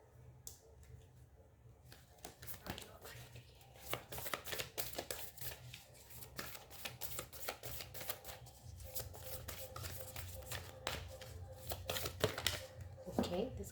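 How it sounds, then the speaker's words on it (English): Oracle cards from a Moonology deck being shuffled and pulled, giving soft repeated papery flicks and snaps at close range, with a quiet voice talking over parts of it. "let me pull out some cards for you from the Moonology deck"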